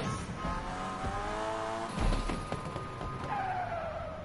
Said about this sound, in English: that's one thing you have to love about the cars that are like tuned up. This, the noise it makes.